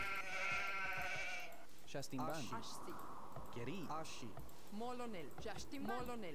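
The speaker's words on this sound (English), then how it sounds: "Villagers here getting the sheep." Sheep bleat repeatedly in the Age of Empires strategy game as villagers gather them. Several wavering bleats sound close and clear over ambient game sound, with chirping birds near the start.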